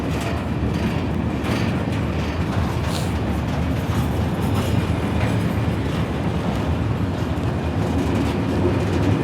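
A continuous low rumble and rattle of a long freight train rolling past steadily, heavy and fairly close, with no voices.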